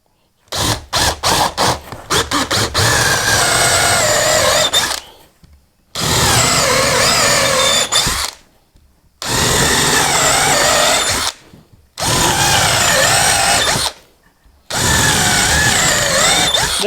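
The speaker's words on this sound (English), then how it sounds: "I'm just going to drill a load of holes." Cordless battery drill boring 10mm holes into an old wooden pallet, a few quick trigger stutters and then four long, loud, close drilling runs separated by short silences, the motor pitch dipping as the bit bites.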